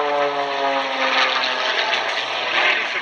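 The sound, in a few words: Red Bull aircraft engine running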